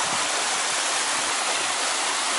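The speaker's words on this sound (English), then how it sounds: "Okay, this is what people come up to see in this neck of the woods. This waterfall here." A waterfall in Carding Mill Valley pours steadily, giving a dense, constant rush of white-noise water close by, with no other sounds.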